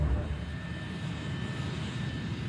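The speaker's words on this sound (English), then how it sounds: "And Flight 587 begins to taxi to runway 31L." American Airlines Flight 587, an airliner taxiing toward the runway, gives off a faint, steady jet engine whine and rumble with a thin high tone held throughout, heard from a distance and without talk.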